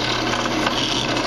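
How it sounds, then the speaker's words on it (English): A drill press bores through a plastic battery box mount, giving a dense, continuous whirring and grinding hiss at steady volume, close up and alone. "Slide underneath the drill press. We're going to let the drill center itself"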